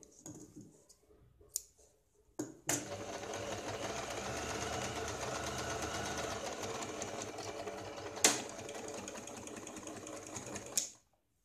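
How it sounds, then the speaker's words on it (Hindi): A sewing machine runs a long steady double line of stitching on a Katori blouse, loud and continuous for several seconds, with a few short bursts and clicks before it starts and a sharp click near the end. "यहाँ पे हम डबल सिलाई लगाते हैं"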